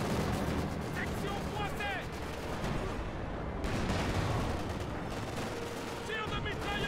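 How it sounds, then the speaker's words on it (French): Machine-gun and artillery fire in a World War II real-time strategy game match, a dense continuous rumble of rapid shots and distant blasts running throughout, with game radio chatter and a player's voice talking over it. "Tire de mitrailleuse en approche."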